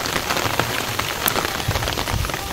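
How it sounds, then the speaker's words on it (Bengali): Light drizzle falls over ripening rice fields in Bangladesh, a soft, even patter of raindrops on surfaces with occasional louder drips, continuous and close. "আজ সকাল থেকেই একভাবে বৃষ্টি হচ্ছে, গুড়ি গুড়ি বৃষ্টি।"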